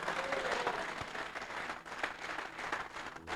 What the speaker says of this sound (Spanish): Y usted da el mejor de los aplausos.